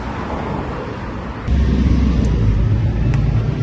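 A city bus pulls in amid steady road traffic, a broad rumbling roar that grows louder and heavier partway through, with no talking.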